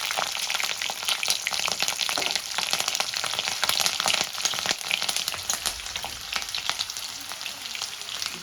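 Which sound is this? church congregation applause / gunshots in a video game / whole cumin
whole cumin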